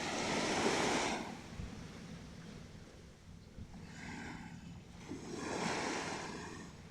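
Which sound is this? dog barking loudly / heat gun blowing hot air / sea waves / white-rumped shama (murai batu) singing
sea waves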